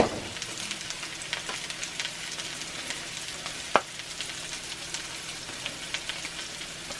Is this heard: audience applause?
no